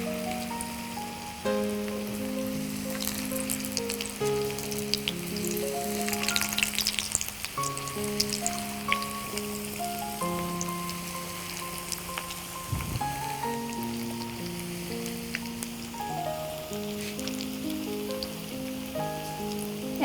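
Boiled potato and cheese fingers, set one by one into hot oil, fry with a constant crackling sizzle that continues under melodic background music.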